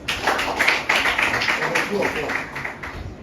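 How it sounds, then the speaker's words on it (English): An audience claps for a team at a basic schools science and maths quiz semi-final, a brief lively burst of clapping heard with voices mixed in throughout. "Let's clap for them."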